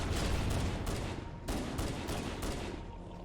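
Video game pistol fire crackles in dense, overlapping bursts, loud and continuous, with a brief dip before the volley resumes.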